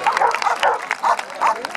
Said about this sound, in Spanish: es un perro que viene de Barcelona